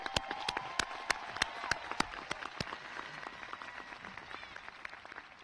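Audience applause at the New Bern High 2018 graduation in a stadium, thin, scattered clapping with distinct individual sharp claps over a faint crowd wash, fading gradually toward the end.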